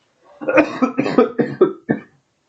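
A run of about six close, loud coughs in a short burst, each sharp and separate, with a brief gap before the last, alone without any talk.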